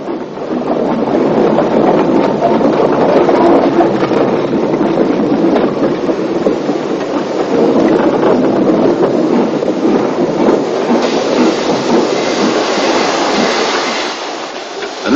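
A Hunslet-built 1941 Austerity 0-6-0 saddle tank steam locomotive hauls a loaded ironstone train through countryside, a loud continuous rolling rumble with faint clickety-clack of wagons, sustained for the whole stretch and fading slightly at the end.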